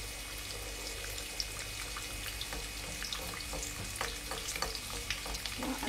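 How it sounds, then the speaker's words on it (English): Crumbed fish shallow-frying in hot oil for fish and chips, with oil spooned over the top, giving a steady close sizzle with scattered crackles and pops throughout. "I'm just putting some hot oil on it, so the top is also getting cooked a little bit."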